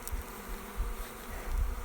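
Honeybees swarm chaotically around a new hive, a dense, continuous buzzing with low wing drones swelling as bees pass close, moderately loud and without speech.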